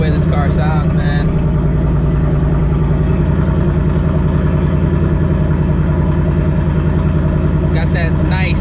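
Deep, loud, steady rumble of a 2024 Ford Mustang engine idling, continuous and close throughout with a few faint higher chirps at the start and end.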